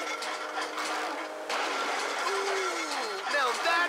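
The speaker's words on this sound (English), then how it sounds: "Ooh, now that doesn't sound good. Damn, that's the engine, man." A failing boat engine in GTA 5 sputters and drones loudly, dropping and rising in pitch with a strained, whining tone.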